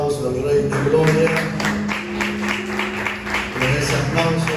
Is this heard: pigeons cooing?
no